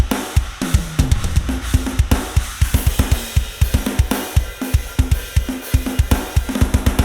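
A mixed metal drum kit from the GGD Invasion library plays back loud and dense, with rapid driving kick and snare hits over bright, constant cymbal wash in a fast, steady rhythm.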